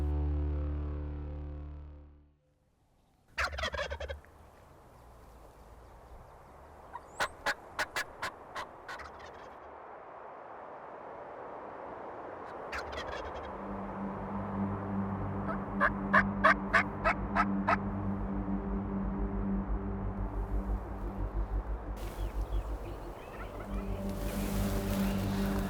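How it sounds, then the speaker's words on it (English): Wild turkey gobbler answering hunters' turkey calls on a Texas ranch, several loud gobbles ringing out one after another over steady outdoor background noise, with call notes mixed in between. "He gobbled every time I called."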